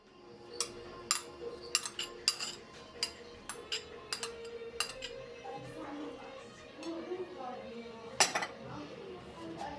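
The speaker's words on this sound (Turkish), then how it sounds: "Tüm iç malzemeyi iyice karıştırıyorum." A utensil clinks and scrapes against a bowl in uneven bursts while stirring börek filling with red capia pepper and parsley, with a voice talking in Turkish in the background.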